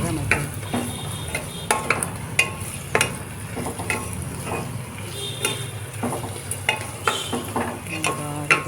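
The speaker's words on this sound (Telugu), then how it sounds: "బాగా మగ్గే ఉల్లిపాయ ముక్కలు చూస్తున్నారు కదా" Onion pieces sauté in a pan ahead of a potato mutton curry: continuous sizzling with frequent sharp spatula scrapes and clinks against the pan, close and fairly loud, with no talking.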